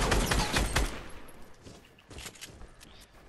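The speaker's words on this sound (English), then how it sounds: "The freaking Gatling gun." A Gatling gun fires in Fortnite Battle Royale, a loud close rattle of rapid shots in dense bursts, strongest at the start and then thinning into scattered shots, with no talk over it.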